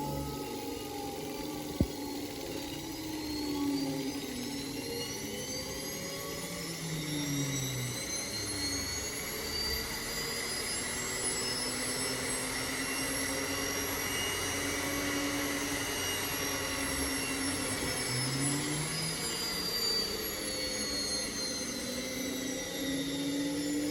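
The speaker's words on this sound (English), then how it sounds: "I'm going to load the secondary motor one more time." An electric motor is loaded in a resonant power transfer demonstration, giving a steady whining hum with tones that sweep slowly up and down, heard alone and fairly faint.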